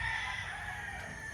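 A White Kelso gamecock crows on a farm, one prolonged crowing call heard close and steady over background ambience, with no talking.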